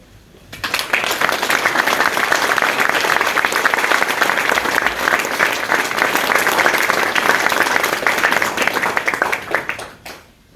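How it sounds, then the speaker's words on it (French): Sustained audience applause at a speech for military authorities, a dense wash of clapping that swells in quickly, holds steady and loud for about nine seconds, then fades out. "Ils méritent nos applaudissements."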